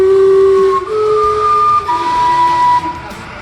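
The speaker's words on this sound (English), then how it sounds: "This is the famous Gastown steam clock, which is a real sightseeing attraction, and it's claimed to be the first steam clock in the world." The Gastown steam clock in Vancouver gives loud, sustained steam whistles in chord-like tones that shift pitch in several overlapping blasts, close by and filling the street.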